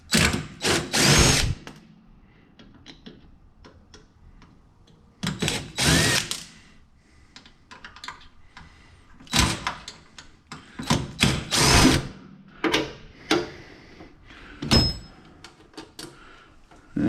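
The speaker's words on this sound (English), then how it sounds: "Go ahead and undo the screws for the transformer." A power drill unscrews the transformer screws from a small copper-bearing motor in a shop teardown, sounding in several loud whirring bursts separated by pauses and clinks of loose parts.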